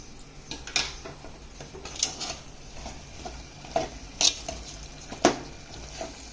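Spoon scraping and clinking against a pan while sambar spices (salt, chilli, turmeric, ginger) are stirred together, a few sharp metallic taps spaced irregularly over quiet kitchen background.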